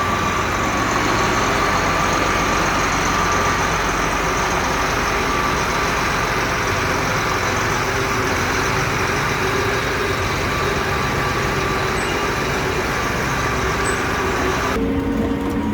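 A heavy diesel tractor engine idles steadily nearby on a farm, a constant low rumble that holds throughout, cutting off abruptly near the end.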